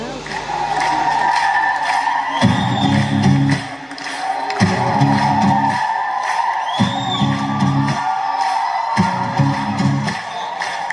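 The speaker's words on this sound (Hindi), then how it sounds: "सब लोग एक जोरदार तालियां बजा के उनका स्वागत करें" An audience at a Christmas carol event cheers and whoops for a dance team, the crowd noise continuous and loud over a steady, thumping low beat, with voices mixed throughout.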